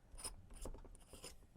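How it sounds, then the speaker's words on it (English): Hilt of a Kylo-style lightsaber being unscrewed by hand, giving a few short close-up ratcheting, grinding clicks and rubs of threaded parts over about a second and a half, fairly quiet with no talking. "we have to unscrew the hilt right here"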